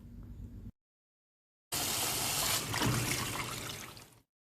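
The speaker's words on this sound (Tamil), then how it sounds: "இந்த அளவு தண்ணீர் சேர்த்துடுங்க" About 300 ml of water pours steadily into a cooking pot for a couple of seconds after a brief gap, close and fairly loud, then cuts off.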